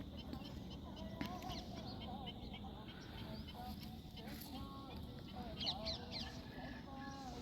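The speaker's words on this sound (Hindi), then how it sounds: "बहुत शानदार पक्षी है ये" Loud honking calls of a large fishing bird along a river, repeated in short bursts over a steady outdoor background, with someone talking over them.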